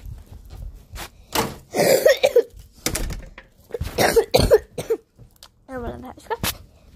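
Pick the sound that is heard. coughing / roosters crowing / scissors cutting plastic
coughing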